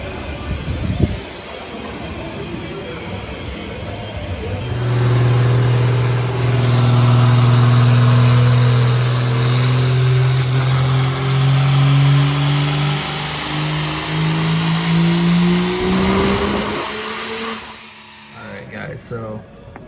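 A high-horsepower built truck engine roars steadily at high revs for a long, loud stretch, its pitch climbing slightly before cutting off abruptly near the end, with a few mechanical clunks around it.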